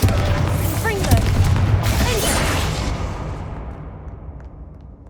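A Bombarda spell detonates in Hogwarts Legacy with a loud blast, then a rumbling roar that gradually fades out over several seconds.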